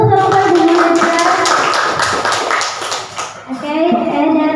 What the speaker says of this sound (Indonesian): Sebelumnya beri tepuk tangan dulu untuk kelompok Ibu Muhadirah.